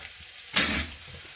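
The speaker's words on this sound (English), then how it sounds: "And then we let the butter melt." Butter hitting a hot pan and sizzling while cooking honey chicken, a single brief burst of frying hiss lasting about a quarter second against quiet kitchen background.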